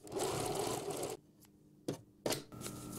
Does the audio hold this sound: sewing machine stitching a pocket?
yes